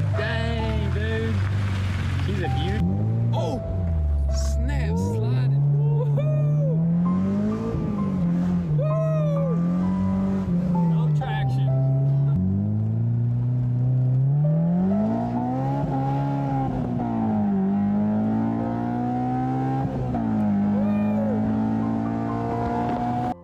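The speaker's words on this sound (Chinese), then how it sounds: "启动的过程非常的顺利，车尾也没有冒烟，发动机的运行情况也非常的柔顺。" Repaired Honda S2000 engine running smoothly, its pitch rising and falling with several revs over a steady idle, close by and loud, with no talk.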